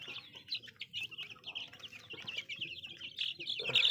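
Young black and white tiger chicks on a poultry farm, around nine days old, peep and chirp continuously in a busy, close chorus that grows louder toward the end, with no one talking.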